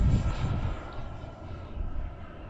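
An E-Flite radio-controlled model airplane drones steadily in flight, loudest at the start and then easing to an even hum, with no talking.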